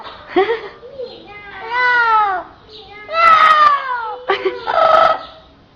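A pet parrot mimics a cat's meow in a series of drawn-out, wavering calls, loud and close, with people chatting in Portuguese between and around the calls.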